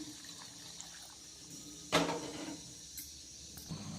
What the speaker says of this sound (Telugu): కాస్త నీళ్ళు పోస్తున్నాను